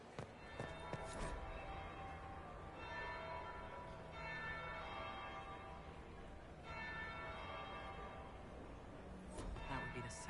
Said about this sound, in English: That would be the second bell.